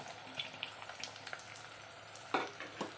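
Ginger, garlic and green chillies frying in hot oil for a nutmeg pickle, a faint steady sizzle broken by a few soft stirring clicks and one sharper scrape near the end, with no talk.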